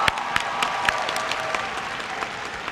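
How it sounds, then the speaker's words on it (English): Graduates applauding themselves at a university fall commencement ceremony, a steady wash of clapping from a large crowd with a few sharper nearby claps standing out. "Give yourselves a round of applause"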